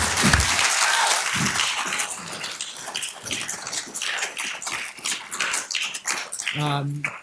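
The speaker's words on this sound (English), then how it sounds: "So can we all give Dan a just special round of applause?" Applause from an audience at an evening university lecture on rebuilding joints, a broad steady patter of clapping that runs for several seconds and thins out toward the end, with some voices mixed in.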